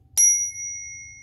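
A single bright tingsha cymbal chime is struck once, then rings on as a clear, sustained metallic tone that slowly fades in a quiet room.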